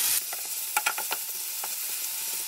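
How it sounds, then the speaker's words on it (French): A whole chopped onion softening in a pan for a vegetarian chili, heard as a continuous close sizzle with several quick spoon scrapes and stirring knocks. "Et vous faites revenir à peu que l'oignon soit un petit peu transparent."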